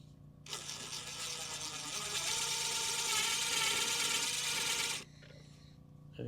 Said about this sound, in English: We'll drill these out real fast.